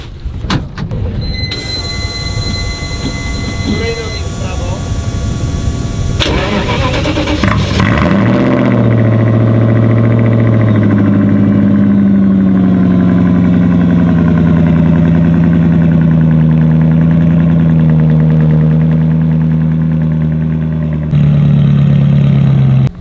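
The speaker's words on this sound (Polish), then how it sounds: "Teraz pokażemy wam cold start V8 na przelocie." A V8 engine cold-starts, cranking and firing up, then roars into a loud, deep, steady idle that runs on at high volume with a rising whine.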